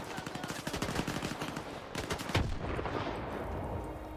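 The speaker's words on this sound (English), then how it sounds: "A grenade!" Rapid bursts of automatic gunfire in STALKER 2, then a heavy explosion from a grenade during an ambush, all fairly faint and distant, with faint voices under the shooting.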